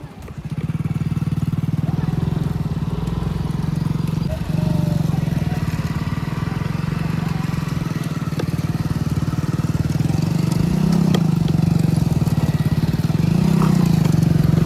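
A motorcycle stuck in mud on a rainy trail toward a waterfall, its engine revving hard and steadily for a long stretch, loud and near, with people talking over it.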